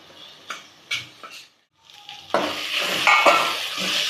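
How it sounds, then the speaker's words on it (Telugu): Tomatoes fry in a pan for paneer bhurji, a few scraping stirs at first, a brief pause, then a louder burst of sizzling with clinks of a spoon against the pan, close up and without speech. "టమాటాలు బాగా వేగాలి, పచ్చివాసన పోవాలిగా"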